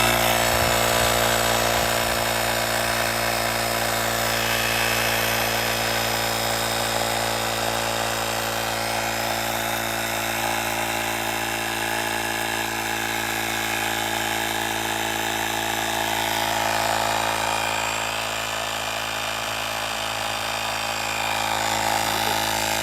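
A portable 150 psi air compressor with a built-in flashlight runs steadily and loud for the whole stretch, a continuous motor-and-pump drone with no pauses and no talking.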